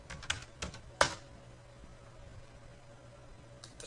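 Typing on a computer keyboard while setting an editor's font size: a few quick close keystrokes in a short cluster, one sharper clack, then quiet with a last faint tap near the end.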